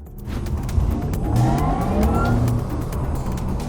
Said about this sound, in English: This is what 761 horsepower sound like in the Porsche of the future.